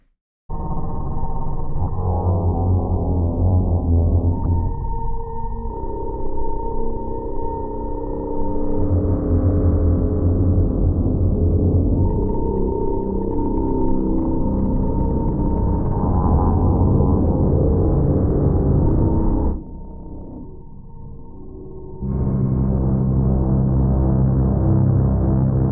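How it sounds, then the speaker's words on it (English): Low, dark sustained double bass textures from the Soundpaint Icelandia sample library, a dense bowed drone with shifting layered swells. It plays loud and steady throughout, dips briefly near the end, then returns at full body. "Sounds like double basses to me."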